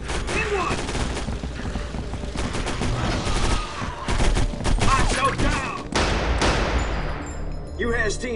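Rapid gunfire from enemy soldiers in the 2005 Area 51 shooter, with dense bursts of shots and machine-gun rattle over a loud battle din, and voices shouting among the shots.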